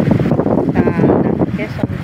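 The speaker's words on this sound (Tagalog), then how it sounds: "At napakalakas ng hangin, malamig po." Strong cold wind buffets the microphone aboard a boat at sea in bad weather, a loud gusty rumble under someone talking throughout.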